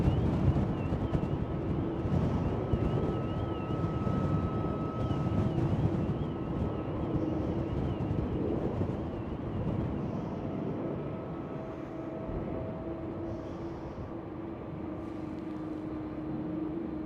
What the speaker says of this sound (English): There goes KLM